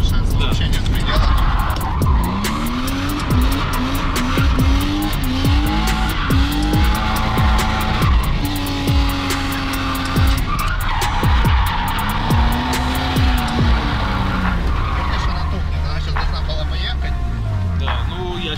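A VAZ 2102 drifts sideways, loud repeated tire squeals and skids sliding up and down in pitch over a revving engine, with people talking throughout.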